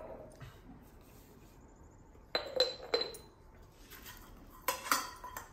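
A spoon clinks against a dish during home cooking of dosa with black chili chutney in a stone mortar: a few sharp metallic clinks in two short clusters, close and fairly clear over a quiet room.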